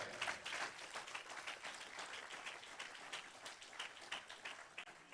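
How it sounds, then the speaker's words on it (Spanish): A church congregation applauds at a low, distant level during a sermon, a soft, continuous patter of many hands with no speech over it. "Denle ese aplauso al Señor, los que son libres."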